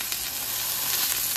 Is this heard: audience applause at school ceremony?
no